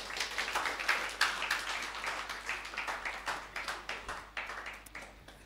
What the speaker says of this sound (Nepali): ताली बजाउनु भएको लागि।